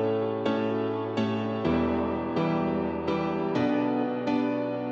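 Distorted guitar-like atmospheric arpeggio layered with pianos, repeated chord hits roughly every half second with bright decaying attacks, loud and steady throughout, no voices.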